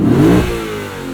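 A 2019 Lexus RC F five-liter V8, 472 horsepower with an 8-speed automatic, gives a brief loud rev that swells and then settles into a smooth falling drone, close by.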